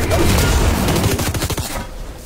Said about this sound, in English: People shooting at you, David, over there?